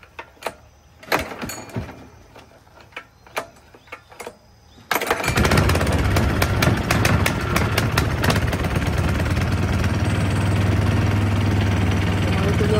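A mini dump truck with caterpillar tracks, just fitted with a new fuel filter, starts after a few clanks and then runs at a steady, loud, rattling idle close to the microphone.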